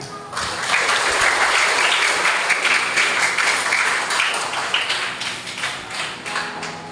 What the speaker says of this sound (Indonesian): Kita boleh beri apresiasi tepuk tangan.